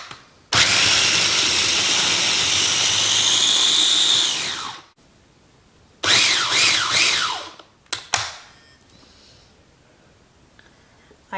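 Parsley, onion and a piece of jalapeno being grated by a loud electric motor: one long steady whir of about four seconds, a pause, then several shorter pulsed bursts that rise and fall in pitch.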